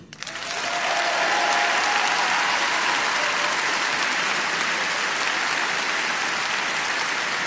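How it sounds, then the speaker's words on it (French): Loud, dense applause from a large crowd at a political rally in Cannes, swelling in within the first half-second and then holding steady and sustained throughout, with no talk over it. "Je veux que nous vous applaudissions."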